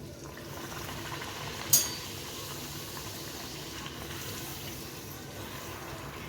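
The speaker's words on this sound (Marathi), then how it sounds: "तर आपण याला तळून घेऊया. तेल गरम झालं आहे." Puri frying in hot oil, a steady close sizzle and bubbling with one brief sharp crackle near the middle, no voices.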